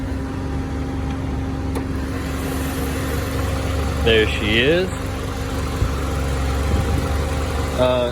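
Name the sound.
car engine idling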